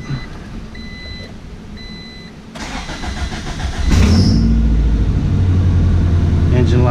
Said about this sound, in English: No water in there, but I want to see if she'll fire up.